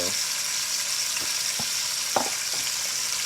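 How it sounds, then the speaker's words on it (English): Chicken sears in a pot for chicken soup, a steady close sizzle with a few clinks and stirring taps over it, no voices. "I'm only gonna sear it on each side. Nice sear, nice brown."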